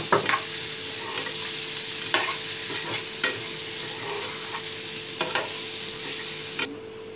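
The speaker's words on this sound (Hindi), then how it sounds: "अभी हमारा ऑयल गरम हो चुका है, अब इसमें जो मसाले वाले आलू है उसको ऐड कर देंगे।" Spiced potatoes fry in hot oil with cumin, mustard seeds and curry leaves, giving a steady loud sizzle broken by intermittent clinks and scrapes of stirring.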